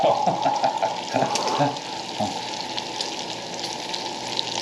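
Onions going into a pan of frying potatoes bring a close, steady sizzle with wet crackling and some clatter of stirring near the start.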